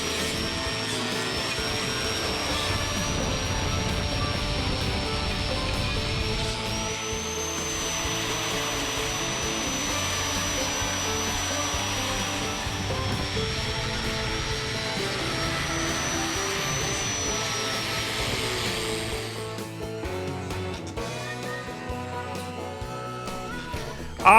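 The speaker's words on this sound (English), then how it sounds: "here is the second of the third tools, which was my Dremel tool" A Dremel rotary tool whines steadily as it scrubs the engine compartment of a 1977 Ford F250 XLT, a high continuous buzz with slight pitch shifts that cuts out near the end.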